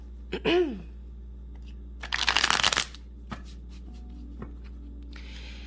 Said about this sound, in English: So let's get a couple shuffles in.